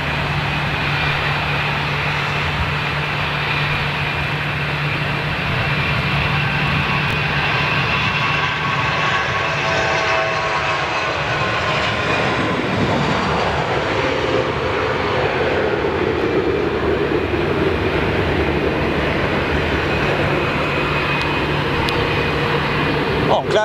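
A Qatar executive Boeing 747 jet passes with a steady, broad engine roar that swells and holds across the whole stretch, while people talk over it throughout.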